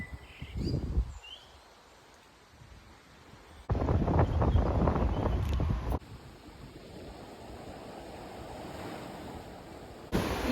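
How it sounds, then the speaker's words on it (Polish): Sea waves roll in along the shore at Aarhus, Denmark, near the Infinity Bridge: a steady broadband wash mixed with wind buffeting the microphone, with abrupt shifts in loudness as the scene cuts. "Piękne morze."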